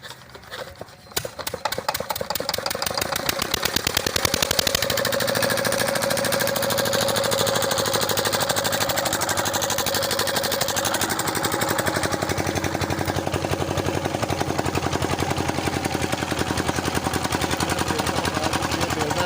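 Engine driving a sugarcane crusher for making gur, starting up after a second and running with a loud, steady rapid chugging throughout, close by and alone without talk.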